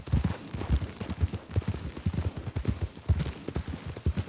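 Horse hooves clip-clop steadily in a western-themed video game, a fast, even, close rhythm of muffled thuds that continues without a break and has no talk over it.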